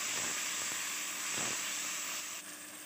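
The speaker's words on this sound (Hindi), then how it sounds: "अच्छी तरह मसालों को आपने भून लेना है" Spices roasting in a karahi with black pepper and coriander, giving a steady, close hiss of sizzling oil that runs throughout and drops slightly near the end.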